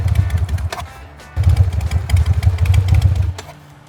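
A jockey-shift motorcycle engine chugs in close, steady low pulses while the rider feathers the clutch on a hill, dipping briefly in the first second before pulling harder again and easing off at the end.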